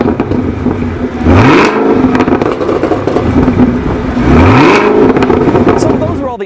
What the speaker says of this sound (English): the ZL1's exhaust note, which sounds nice and aggressive.